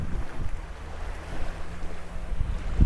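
Wind gusting by a lake during a drone flight, a low rumbling buffet of moving air against the microphone that rises and falls unevenly throughout, with no talk.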